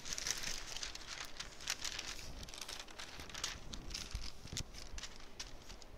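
Soft, continuous crinkling and rustling of parchment paper being handled during quilt making, with scattered crisp crackles close by and no talking.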